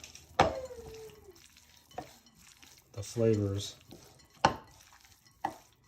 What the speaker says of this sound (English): you want to mix all this around